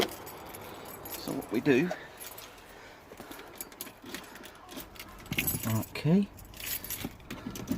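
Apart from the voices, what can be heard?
car keys jangling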